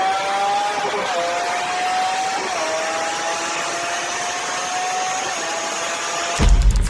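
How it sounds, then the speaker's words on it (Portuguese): A steady engine roar holds throughout with a gliding tonal whine that dips and rises, ending in a brief louder burst of noise. "o ronco de um motor consegue provocar tanta emoção"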